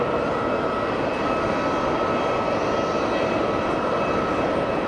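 An Airbus neo jet airliner departs Geneva Airport bound for Lisbon, a steady, broad jet engine roar holding constant and fairly distant with no other sounds.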